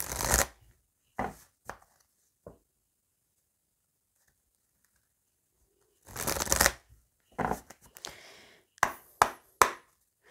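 Tarot cards being shuffled and cut, quick papery riffles and flutters in short bursts separated by silent pauses, close and fairly quiet, with a denser cluster of snaps near the end.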